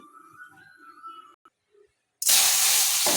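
Oil hisses loudly as it is poured into a hot kadai, a sudden intense sizzling rush that starts abruptly after quiet background sounds and continues steadily close up.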